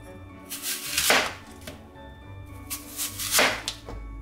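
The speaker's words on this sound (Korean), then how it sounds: "재료들 깨끗이 씻어주시고 사과를 2개 썰어줍니다" Two bursts of a knife chopping through apples onto a cutting board, each a quick cluster of crisp cuts, close and fairly loud, with quiet pauses between.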